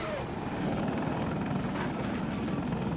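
Helicopter rotor chop and engine roar from Battlefield 2042 gameplay, a steady loud drone holding throughout with no letup.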